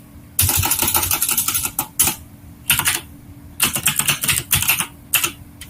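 Computer keyboard typing up close, quick bursts of crisp key clicks separated by short pauses, with no voices.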